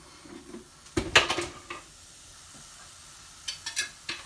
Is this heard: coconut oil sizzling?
yes